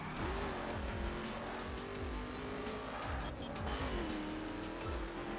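Racing cars in the video game The Crew rev and shift through gears with short tire squeals, engine pitch climbing and dropping repeatedly at close range.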